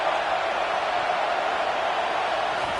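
College football stadium crowd roaring in a steady, dense wash of noise from start to finish, a sustained cheer with no single voice standing out.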